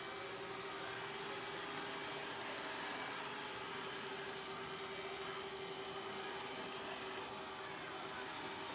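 A TONOR robotic vacuum cleaner runs with a steady, faint whirring hum and suction hiss, unbroken throughout.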